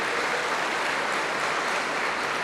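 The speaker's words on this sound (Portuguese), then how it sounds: "Gente, vamos aplaudir ao nome de Jesus." A church audience at a televised service bursts into dense, continuous applause, a loud, even wash of clapping with no voices over it.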